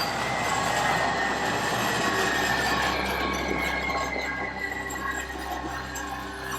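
A train rolls past at close range near Eccles Bridge at night, a loud, continuous rumble of wheels on rail with a drawn-out metallic squeal over it, fading slightly toward the end.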